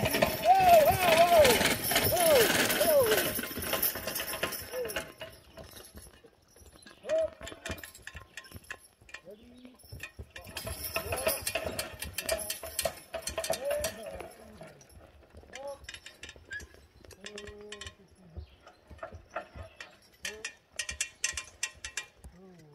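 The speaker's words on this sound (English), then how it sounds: "Here it's becoming very apparent the clanking that was agitating the horses." Irregular metallic clanking and rattling of a horse-drawn sickle bar mower pulled by a team of horses, with hooves clopping, loud at first then fading and returning in bursts.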